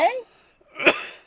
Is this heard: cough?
yes